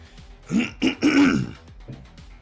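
Throat clearing and a few coughs from a man taking a break while commentating a tournament grand final, three loud rasping bursts close to the microphone followed by quieter breathy sounds.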